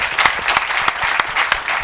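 A studio audience at a French-language television show applauds, a dense close wash of clapping with rhythmic sharp beats pulsing through it, steady for the whole stretch.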